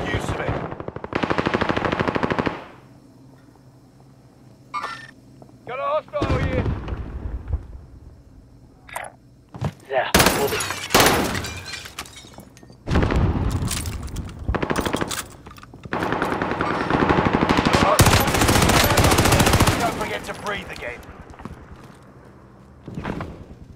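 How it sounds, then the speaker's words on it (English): Heavy automatic gunfire from a Call of Duty match on Rebirth Island (Resurgence mode), loud sustained bursts and rapid rattling volleys alternating with brief lulls, with scattered footsteps and game voice callouts between. "Taking heavy fire here!"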